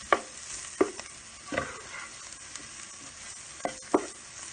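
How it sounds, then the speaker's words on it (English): Spoon or spatula stirring creamy spinach pasta ingredients in a pan, a handful of separate scraping strokes at uneven intervals over a faint steady sizzle, close and moderately quiet with no talking. "I'm going to start mixing everything together."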